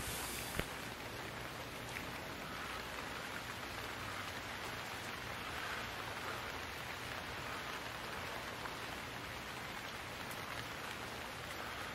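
Steady, dense rainfall in the game Stranded Deep during a storm at sea, hissing evenly on surfaces, a constant wash of droplets with no voices and little change over time.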